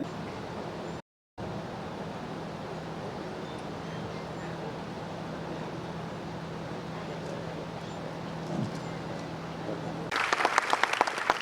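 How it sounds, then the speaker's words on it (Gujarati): An audience of students and elders applauds at a community honours ceremony in Surendranagar, a dense, steady wash of clapping that carries on throughout and swells at the end. "આજના કાર્યક્રમને તાળીઓના ગડગડાટથી વધાવીએ આવકારીએ"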